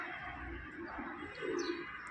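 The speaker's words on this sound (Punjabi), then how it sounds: "ਕਬੂਤਰ ਮਾਸ਼ਾਅੱਲਾ ਬਹੁਤ ਚੰਗਾ ਜੀ" Pigeon cooing softly at a bird seller's, a low throaty coo swelling near the end amid faint background noise.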